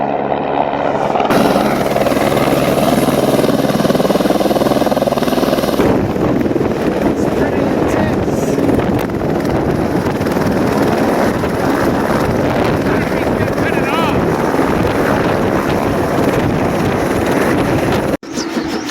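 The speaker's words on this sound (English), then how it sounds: "our helicopter is here, and he's coming in to land" A helicopter comes in to land close by on a Colorado hunting trip, its rotor thumping under heavy wind buffeting as it descends, loud and sustained before cutting off abruptly near the end.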